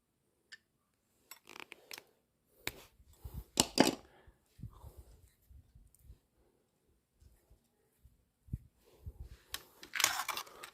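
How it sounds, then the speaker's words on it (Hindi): Pliers stripping insulation off electrical wire while wiring a socket and switch board, heard as sparse close clicks, snips and scraping rustles in irregular bursts, with quiet gaps between them. "इसे प्लायर की सहायता से छील लें ऐसे बिल्कुल आसानी से।"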